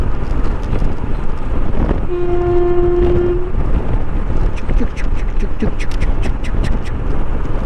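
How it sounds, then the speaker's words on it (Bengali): An electric train passes close by with a steady mechanical roar, a long horn blast cutting through midway, and faint rhythmic clatter toward the end; a voice talks over it. "বাম পাশে দিয়ে ট্রেনটা যাচ্ছে দেখুন"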